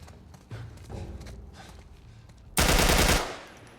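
A burst of gunfire from The Last of Us Part I, with scattered thuds and footstep-like sounds leading into a loud, sustained rapid volley near the end.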